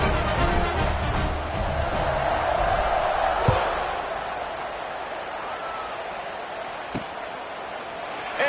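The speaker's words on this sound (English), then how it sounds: "this crowd is buzzing after that last score" A steady, loud stadium crowd roars with a constant buzz in the College Football 25 game after a score, and a commentator talks over it.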